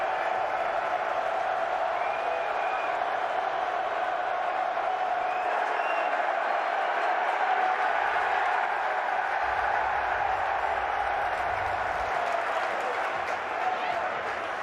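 A stadium crowd roars steadily at a 2023 XFL football game, Seattle Sea Dragons hosting the St. Louis BattleHawks, as a continuous loud wash of cheering with play-by-play commentary talking over it.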